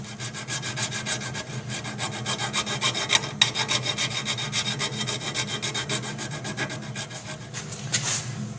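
A file rasps back and forth while rounding off the tenon on a combat knife, giving steady rhythmic strokes that are close and fairly quiet, with no talking.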